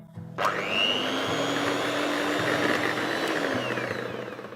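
A stand mixer whirs steadily as it beats oil into a vegan egg for a gluten-free polenta cake, spinning up sharply, running loud and continuous for several seconds, then tapering at the end.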